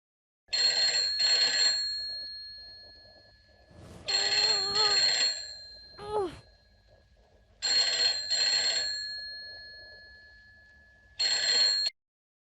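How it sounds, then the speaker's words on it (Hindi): A telephone rings unanswered in a TV drama scene: four clear electronic ring bursts, evenly spaced with silent gaps between them, loud and close. "कोई फोन उठा नहीं रहा, शायद सो गए होंगे"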